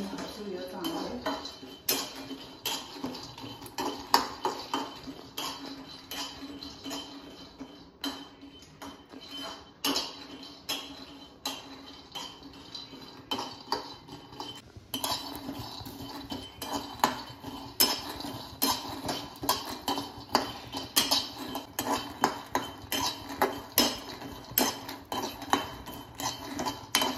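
Peanuts roast in a pan over medium heat, giving a soft, continuous clatter and scraping of nuts and a stirring utensil against the metal, with irregular clinks throughout at low volume.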